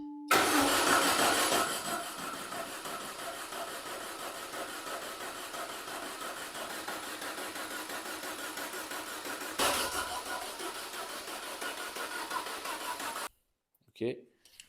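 A Peugeot 205 youngtimer engine cranks steadily on the starter without catching, a loud sustained churning that stops abruptly near the end, with people talking nearby.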